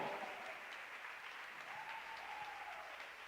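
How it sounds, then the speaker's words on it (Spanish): Church congregation applauding strongly in a steady, dense wash of clapping that fills the whole stretch, with a faint voice or sustained tone rising briefly partway through. "Dale ese aplauso fuerte al Señor."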